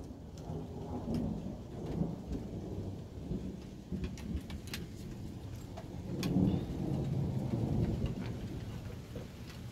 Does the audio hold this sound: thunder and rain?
yes